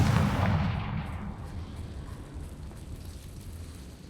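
A Confringo blasting spell goes off in the video game Hogwarts Legacy, a loud booming burst at the start that rolls into a long, rumbling decay with crackling debris fading over several seconds.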